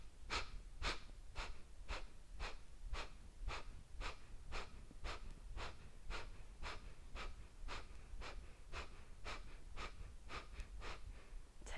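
Sharp, rhythmic nasal exhales of yoga breathing during a vinyasa flow, about two forceful puffs per second repeating evenly and close, with no talking.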